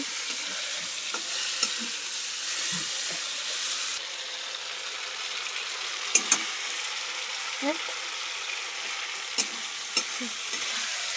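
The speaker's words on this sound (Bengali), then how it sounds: "আপনারা দেখছেন মাছের তেলটা ভাজা হচ্ছে।" Fish fat renders and fries in a wok, giving a constant gentle sizzle with scattered sharp taps and clinks of a spatula against the pan.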